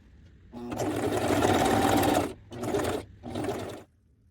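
A sewing machine stitches a wide zigzag on fabric scraps in three close bursts: one long whirring run, then two shorter ones, with brief pauses between.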